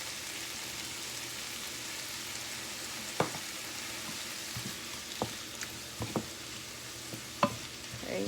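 Vegetarian stuffed pepper filling seasoned with black pepper simmering in a pan over lowered heat, a gentle steady sizzling hiss broken by a few sharp utensil taps and stirring clicks.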